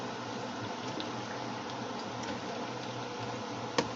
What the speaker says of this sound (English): So let's get them frying real good.